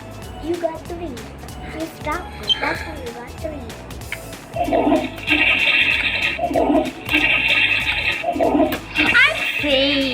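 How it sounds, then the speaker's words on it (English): A toilet flushes during a kids' flushing challenge game, with water rushing in repeated bursts at close range while children talk over it. "You flushed."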